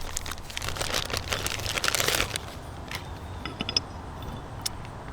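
Light metal mounting hardware for a J.W. Speaker Trail 6 Pro turn-signal light is handled up close, giving irregular clinks, rattles and crinkling, busier at first and then sparser.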